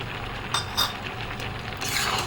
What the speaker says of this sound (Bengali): চিনিটা দিয়ে এবার মেশাতে হবে ভালো করে